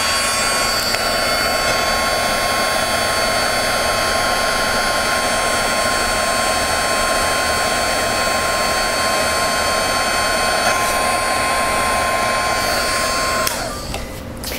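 A loud, steady whining heat embossing gun blower runs continuously with a high tonal hum, then cuts off abruptly near the end.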